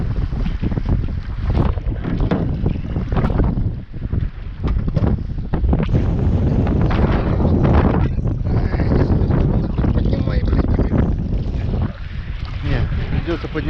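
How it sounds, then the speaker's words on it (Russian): Strong wind buffets the microphone on a lake while fishing from a small boat, a loud continuous rumbling gusty roar with water sloshing, and a voice speaks briefly beneath it. "Вот ветер"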